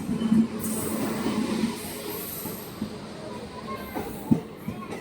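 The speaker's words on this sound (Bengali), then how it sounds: "ট্রেন তো চলেই যাচ্ছে।" A train pulls out of a busy Indian station platform bound for Dhaka, its rail rumble and wheel noise moderate and continuous beneath crowd chatter, with a sharp clank near the end.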